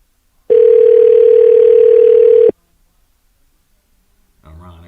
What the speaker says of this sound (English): We dialing Ron.